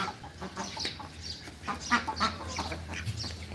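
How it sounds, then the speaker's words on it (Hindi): Desi hens clucking and squabbling as they peck at ducks in a home garden mini zoo, a close run of irregular agitated clucks and scuffles with no talk. "ये मुर्गी क्यों मार रही है बतखों?"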